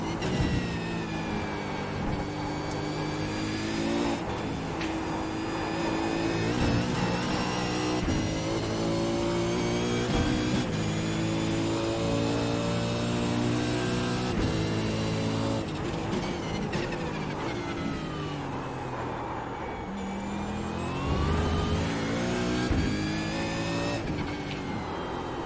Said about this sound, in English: there's a car exiting the pits